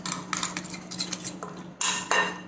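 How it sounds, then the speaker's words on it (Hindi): Utensil clinks and scrapes against a bowl while lemon juice is mixed into curd and paneer ingredients, bursts of clatter in short uneven strokes, fairly close and without talk. "अब ये सारे इंग्रेडिएंट्स को हम अच्छी तरह से मिक्स कर लेते हैं।"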